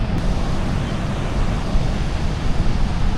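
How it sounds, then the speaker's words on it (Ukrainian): Strong wind roars steadily outdoors in Vietnam in the evening, a dense, rumbling rush of air buffeting the microphone with no pauses. "Вітер, вітер такий сильний"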